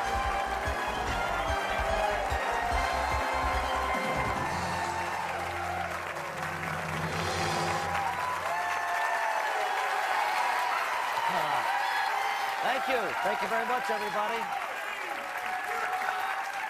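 A big, boisterous studio audience at a New York City taping of Who Wants to Be a Millionaire in 1999 applauds loudly and steadily, with cheering mixed in, while someone speaks over the crowd near the end.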